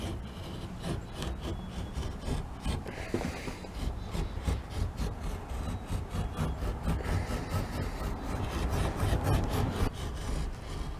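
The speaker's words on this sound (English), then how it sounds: "You just want to take a knife blade, just score a line" A knife blade scores a line along the bottom of an interior door, giving a steady, close scraping rasp of steel on wood that runs continuously with rhythmic strokes and no talk.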